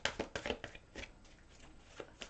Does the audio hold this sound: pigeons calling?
no